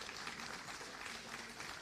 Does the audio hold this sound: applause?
yes